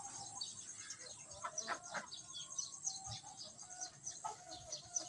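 Ducks raised for eggs feeding at close range, with soft clucks, chirps and quacks scattered over a steady outdoor murmur, no talk.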